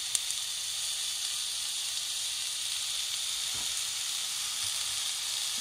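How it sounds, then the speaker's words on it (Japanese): Chicken breast, salted, stir-frying in a pan, giving a steady broadband sizzle and hiss that runs unbroken throughout at moderate level, with no voices. "炒めてます。"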